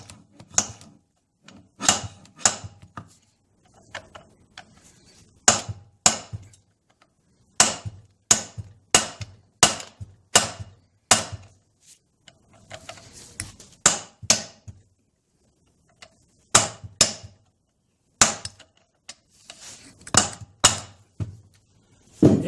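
Repeated hammer blows strike a stuck part on the powerhead of a 1971 Johnson 25 HP outboard, sharp metallic knocks landing in quick bursts with short pauses between groups, close and loud with no talking.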